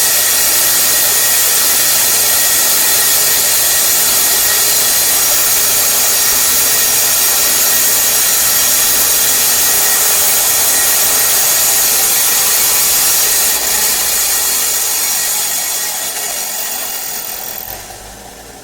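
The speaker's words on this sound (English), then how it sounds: "I'll clean them up a little on the wire brush here" Bolts from a 2005 Honda Pilot are held against a spinning wire brush wheel, making a loud, continuous, harsh grinding hiss that fades as the wheel spins down at the end.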